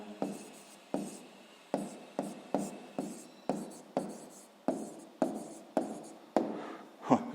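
A pen scratches across paper while a sixth-grade maths exercise is worked out, a quiet close series of short strokes repeating at a steady, even rhythm, about ten distinct scrapes.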